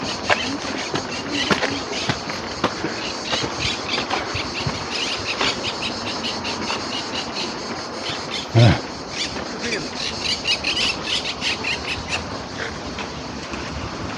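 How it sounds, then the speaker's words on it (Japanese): Cicadas and birds call together in Retiro Park, Madrid, on a midsummer day: a dense, steady high-pitched buzz with scattered chirps and squeals running throughout, plus one brief louder knock near the end. "セミと鳥がなんか合唱してる感じね"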